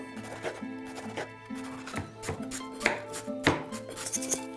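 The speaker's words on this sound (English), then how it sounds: "Then let's cut up our peppers and onions." A kitchen knife chops peppers and onions on a board for sausage and peppers, giving a quick run of crisp, close cuts and taps over background music.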